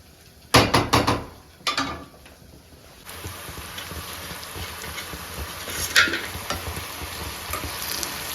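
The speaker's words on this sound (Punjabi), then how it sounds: "ਲਓ ਜੀ ਇੱਧਰ ਆਪਾਂ ਮਿਕਸ ਕਰਤੀ ਸਬਜ਼ੀ ਵਧੀਆ ਤਰੀਕੇ ਨਾਲ" A cauliflower stalk vegetable is stirred with masala in a kadai. A few loud clattering spoon strikes come first, then a steady frying sizzle with lighter scraping and stirring, close and without talk.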